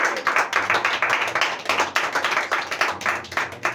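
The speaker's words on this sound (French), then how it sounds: "On acclame le Seigneur." A crowd claps together in praise of the Lord at a French-speaking Christian gathering, a loud, dense and steady patter of many hands that carries on for several seconds without any talk.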